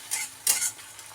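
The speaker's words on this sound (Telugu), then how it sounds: "ఇప్పుడు బీట్ చేసిన ఎగ్ వేసేస్తున్నాము. ఇప్పుడు లైట్గా కలుపుకోవాలండి" Beaten egg for fried rice hits a hot pan and is stirred lightly, giving a brief soft sizzle with a couple of quick scraping strokes close by and no talk.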